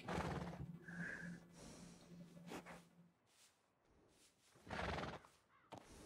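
Horse in Red Dead Redemption 2 giving a loud whinny at the start, followed by snorts, breathy exhales and a few hoof clops, close and otherwise quiet.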